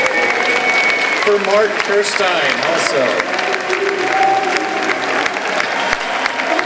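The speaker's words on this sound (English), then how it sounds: "And say a big applause" Loud, sustained applause and cheering from a big crowd at a Gamescom 2010 live stage demo, with someone speaking over the clapping through a sound system.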